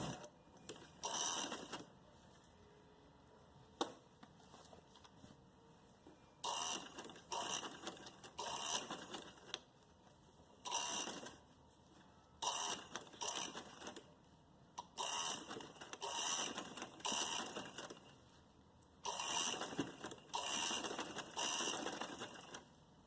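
A domestic sewing machine stitches lace onto a kurti neckline, running in repeated short bursts with brief pauses between them, fairly close and moderately loud, with no talk.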